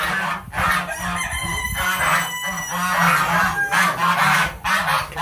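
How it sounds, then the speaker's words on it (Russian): Several farmyard geese honk loudly and repeatedly at close range, their harsh calls overlapping in uneven bursts against a low background hum. "барашки, гуси"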